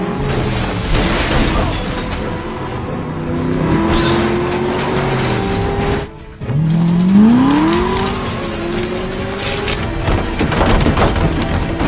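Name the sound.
Chevrolet Camaro car chase in a film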